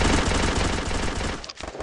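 Rapid automatic gunfire from a shooter video game rattles in dense, fast bursts, loud and continuous before a brief break near the end, with no talk over it.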